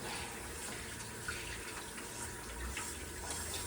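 A tap running for hand washing in an apartment, a steady close hiss and splash of water flowing without pause.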